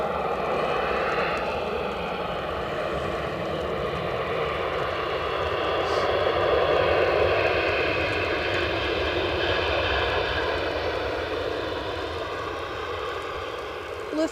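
Airliner jet engines roar at Edinburgh Airport, heard as a loud, sustained rumbling drone that swells slightly midway and carries on throughout without interruption.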